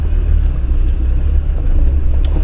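An off-road vehicle's engine rumbles low and steady as it climbs a rocky green lane in the Lake District in November, a continuous near drone with no speech.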